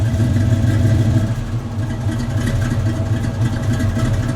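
A 1965 Chevrolet El Camino with a 327 V8 and four-speed idles steadily, a loud, close, low rumbling drone with a slight lope and no voices.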